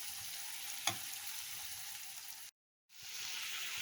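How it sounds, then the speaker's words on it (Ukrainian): Steady, even sizzling of flour toasting to a light brown in a pan, with a single soft clink partway through and a brief silent gap before the sizzle resumes. "щоб борошно трошки підсмажилося до коричневатого кольору"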